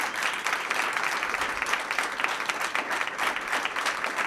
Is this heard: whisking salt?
no